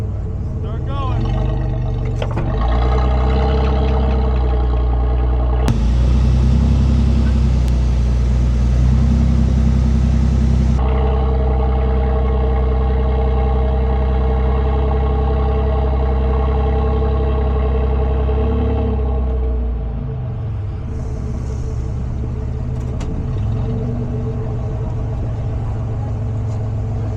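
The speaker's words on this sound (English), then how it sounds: "Give me a little bit of gas and we'll back it up onto the concrete." A two-wheel-drive Ford F-150 pickup reverses off beach sand onto concrete, its engine a steady loud rumble that swells under throttle midway before easing back to idle, with people talking over it.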